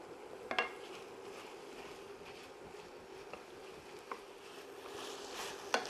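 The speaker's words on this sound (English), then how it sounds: "we can go in here and it'll scrape off really easy" Scraping browned bits off a pan bottom while deglazing, liquid steaming in the hot pan: a low sizzle runs throughout, broken by a few sharp utensil scrapes and taps against the metal.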